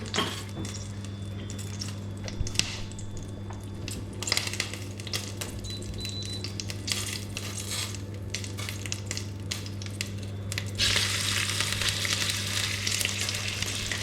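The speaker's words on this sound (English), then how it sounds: "kind of stir fry a little bit so it gets more crust and more umami" Meat sizzling and being stir-fried in a pan to build a crust, with a steady frying hiss throughout, occasional stirring scrapes, and a louder burst of sizzle near the end; no talking.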